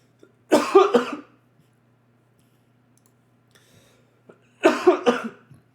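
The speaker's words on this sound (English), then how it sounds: "Got a little bit of a cough." Two separate coughing fits a few seconds apart, each a close, loud burst of several rough coughs, with near silence between them.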